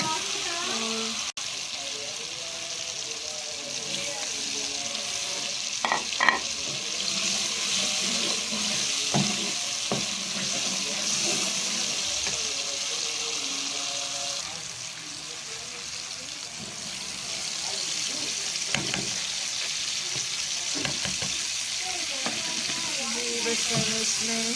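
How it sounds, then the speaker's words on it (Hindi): Tomatoes and spices sizzle in hot oil for a tadka, a steady broadband frying hiss with occasional stirring clinks and spatters, fairly close and continuous throughout. "ऑयल गरम करके मैंने इसमें टमाटर डाल दिए हैं और थोड़े थोड़े स्पाइसेस वगैरह डाल दिए हैं"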